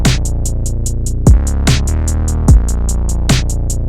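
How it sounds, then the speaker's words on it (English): A punchy, booming kick drum repeats in a simple pattern in a trap beat, with deep pitch-dropping hits over steady hi-hat ticks and a sustained low bass. "I think I laid down this kick."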